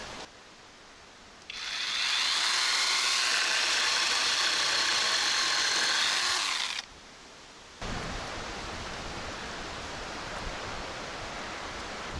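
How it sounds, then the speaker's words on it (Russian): A battery chainsaw whines at high speed for several seconds, then abruptly cuts out as it trips its protection, leaving steady wind-like noise and a faint hum. "Почему-то пила уходит в защиту."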